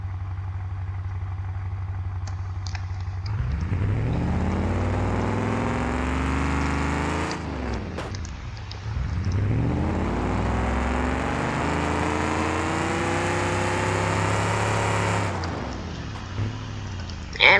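Simulated Lincoln car engine in BeamNG, revving and climbing in pitch, then dropping as it shifts up early at low RPM, rising again through a second surge, loud and continuous with a brief dip between pulls.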